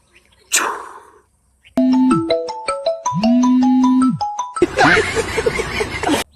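A loud electronic phone ringtone plays a bright melodic tune close up, preceded by a brief noise and followed by a burst of louder noise.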